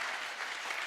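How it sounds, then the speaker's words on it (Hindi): Dense, steady applause from a crowd at a Hindi poetry gathering, a continuous wash of many hands clapping together loudly with no voice over it. "बजाओ एक बार जोरदार ताली।"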